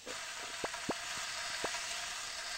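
Meat sizzling on a grill in the yakiniku action game Yakiniku Bugyo: a steady bright hiss throughout, broken by a few short sharp pops.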